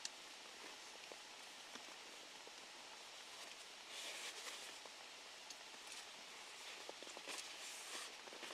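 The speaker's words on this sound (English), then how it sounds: "We have rain now." Light rain falls at a night-time wild campsite during a storm, a faint, steady patter with scattered sharper drops and a brief heavier spell partway through.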